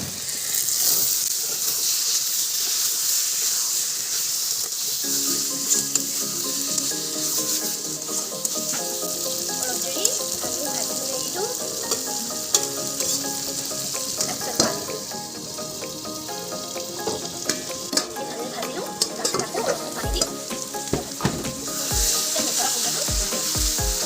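Potatoes sizzling in hot oil in a pan as tomato and coriander are tossed in, a continuous frying hiss with stirring scrapes and clatter growing busier toward the end.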